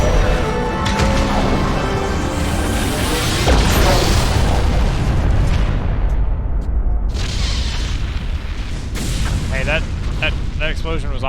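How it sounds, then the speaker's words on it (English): Booming explosions and heavy blasts from the Mass Effect video game, loud and dense, rumbling continuously with sharp bursts near the end, mixed with game sounds. "That explosion was awfully close to the tower that we happen to be in"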